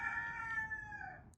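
A rooster crows once on a farm near raised garden beds, a drawn-out, fairly faint call that rings steadily and trails off at the end.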